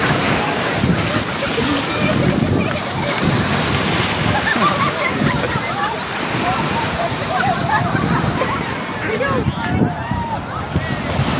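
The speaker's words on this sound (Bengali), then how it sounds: "ঢেউটা এলে দেখে, এই ঢেউটা আসছে, ঢেউ আসছে।" Sea waves break and wash continuously along the shore at Puri beach, a loud steady surf roar with wind across the microphone and faint voices mixed in.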